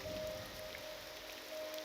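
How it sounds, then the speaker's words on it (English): Steady rain patters in the video game Morrowind as a constant wash of noise, with a faint tone sounding underneath. "I want to get rid of this rain because I can't see a fucking thing."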